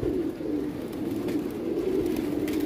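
Pigeons coo softly and steadily on a rooftop, a low continuous murmur from a flock, with occasional brief flutters and light background noise.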